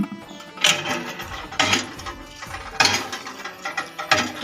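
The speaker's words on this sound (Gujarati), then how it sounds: "ડંકીએ પાણી ભરાઈ જાય" A hand pump at a village well is worked to draw water, its lever giving repeated creaking, clanking mechanical strokes in an irregular rhythm, close and fairly loud.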